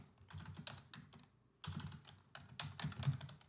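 Fingers typing on a computer keyboard, two quick bursts of close, light clicking keystrokes separated by a brief pause, with no talking.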